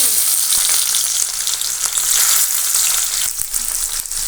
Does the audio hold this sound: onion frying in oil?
yes